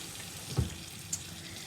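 Green tomato slices fry in a pan with a steady, close sizzle that fills the clip, broken by a soft thump and a faint clink.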